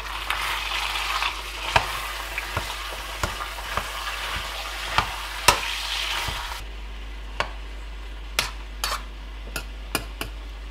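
Meat fries in olive oil in a big pot, a steady soft sizzle with repeated sharp clinks and scrapes of stirring, close and moderately loud, with no voices.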